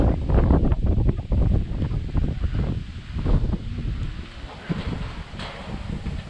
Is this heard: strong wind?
yes